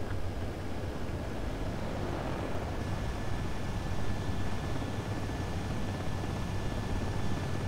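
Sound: aircraft landing in Ace Combat 7 video game

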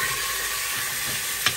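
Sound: chicken browning in a hot pan with oil

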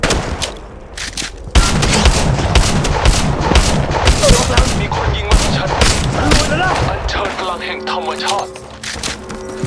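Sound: gunfire in Apex Legends Mobile video game

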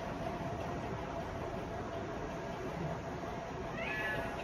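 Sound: common myna mimicking a cat's meow

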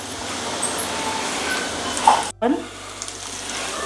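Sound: dosa batter frying in oil on a covered pan

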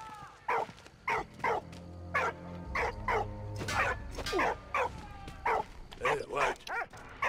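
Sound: dog barking in video game Valiant Hearts: The Great War

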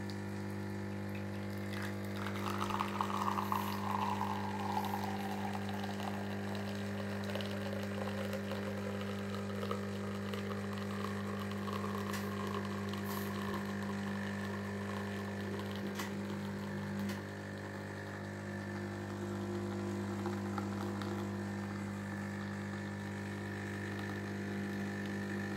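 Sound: Bosch VeroCafe Latte coffee machine dispensing coffee

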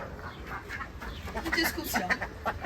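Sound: ducks quacking

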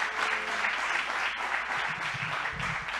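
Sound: audience applause

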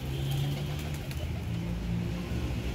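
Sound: pigeon cooing

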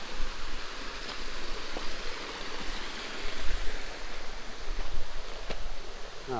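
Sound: mountain stream water flowing over stones

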